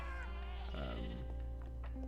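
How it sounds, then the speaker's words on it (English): Goats and sheep bleating in a Minecraft-style video game, the goats sounding like screams: several wavering, nasal bleats overlapping close by over a steady low hum. "We've got a bunch of animals, some screaming goats."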